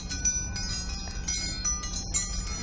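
A wind chime made of silverware rings and jangles as it is handled up close, with bright overlapping metallic tings and clinks scattered over a steady low hum, no voices.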